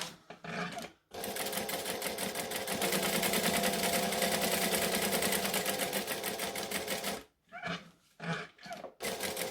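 A sewing machine runs a top stitch along a fabric handle, with back stitching. A short burst of rapid mechanical clatter comes first, then a long continuous run, then several brief stop-start bursts for the back stitch. The sound is close and quiet, with no voices.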